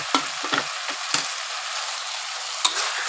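Fried tofu stir-fried in a pan with holy basil, giving a steady, quiet sizzle broken by a few sharp spatula clicks and scrapes against the pan, close by.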